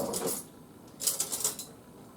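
A small spoon clinks and scrapes against a bowl while mixing dry banana bread ingredients made with whole wheat flour, with a few light, quiet taps clustered near the start and again in the second half.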